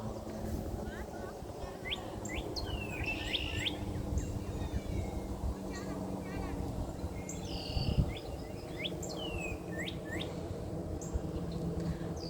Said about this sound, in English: Birds are talking.